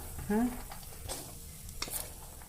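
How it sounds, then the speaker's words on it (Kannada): Chana dal being dry roasted and stirred in a pan, giving a soft, steady scraping rustle with a brief louder scrape early on, close and moderately quiet with no talk. "ದಿಪ್ಪನ ಕರುಬಾಳ್ಗೆ ಅದ್ರಾಗ ಹುರಿಬೇಕು ಇವನ್ನ"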